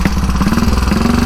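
Velocette KTT motorcycle with an ignition timing fault firing and running close by, a loud, rapid, slightly uneven thumping beat.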